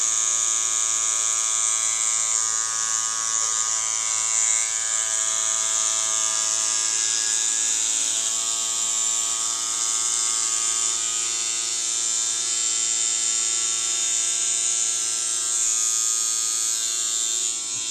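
A tattoo machine set to a long stroke and driven at 9 volts buzzes in a continuous, high-pitched electric whine, steady and close throughout without any talking.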